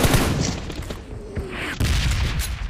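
Gunfire in PUBG Mobile Lite: a dense burst of rapid shots with sharp cracks, a brief lull, then another loud volley; no speech.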